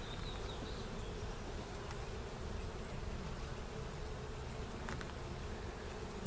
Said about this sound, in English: So this is a pretty strong hive right now.